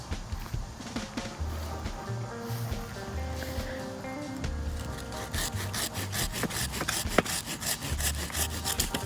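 A saw cuts down a garden tree outdoors, its rhythmic back-and-forth strokes rasping through wood at moderate distance, steady and repeated for several seconds with faint ambient noise.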